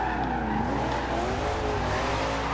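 A Camaro Z/28 in the Forza Horizon 2 racing game, its engine droning loudly while the tires skid and squeal continuously throughout, steady and close with no talking.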